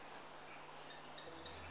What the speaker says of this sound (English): A green grasshopper uses the moist warmth of the night to change its skin and reach adulthood.